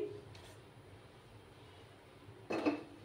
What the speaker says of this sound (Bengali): গ্যাসটা জ্বালিয়ে দিলাম, প্যানটা বসিয়ে দিলাম।